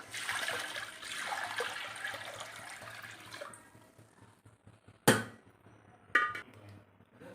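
Water, 1.5 liters in all, is poured into a kadai to boil pasta for a white sauce dish, a broad splashing rush for about three seconds followed by quieter trickling and a couple of sharp pan knocks.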